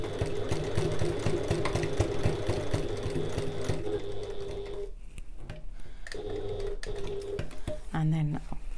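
A sewing machine stitches a large fabric bag with a fast, steady mechanical whir that pauses briefly and then resumes, close and moderately loud, with a voice talking over parts of it.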